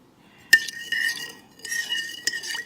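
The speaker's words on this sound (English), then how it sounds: "So we have 1/4 cup of oil going in. So that's all in, and we'll give that a stir." A spoon stirs oil into a bread dough mixture in a bowl, with a few sharp clinks against the side and short stretches of scraping swirls, close and alone.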